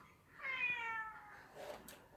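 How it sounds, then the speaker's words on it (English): A pet cat gives one clear, drawn-out meow close by in a quiet room, followed by a softer, shorter vocal sound. "I have a cat in case you haven't noticed that sound."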